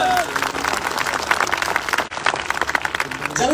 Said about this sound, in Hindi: तो तालियां तो बनती है।